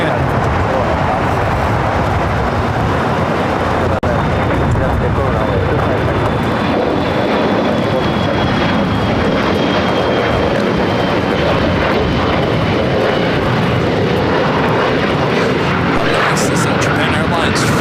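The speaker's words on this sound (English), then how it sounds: "This is Air China 988 taking off to Beijing on the 777 300ER Taichan." An Air China Boeing 777-300ER departs LAX for Beijing, its jet engines roaring loud and steady for the full length, with a thin descending whine over the broadband rumble and a voice talking over it.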